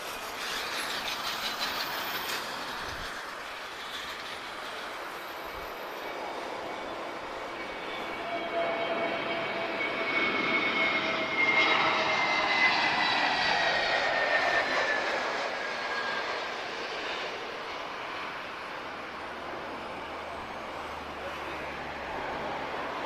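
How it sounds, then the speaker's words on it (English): A TAP Air Portugal Airbus A321neo arriving at Lisbon Airport on a flight from London Heathrow, its engine roar swelling steadily and peaking mid-way before easing off, heard from a distance over wind and outdoor background noise. "we just have TP1359 just about to arrive from London Heathrow"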